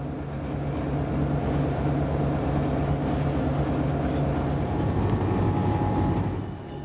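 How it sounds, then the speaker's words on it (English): A suburban passenger train with locomotive 630 pushing from the rear of a front cab control car gives a steady, loud rumble and clatter of wheels on rail that runs unbroken and fades slightly at the end. "With number 630 pushing, Roger rode the front cab control car on the suburban line"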